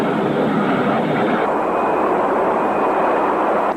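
Boeing 727 jet airliner in flight, a loud steady broadband engine roar that holds constant throughout with a faint whine above it, no voices.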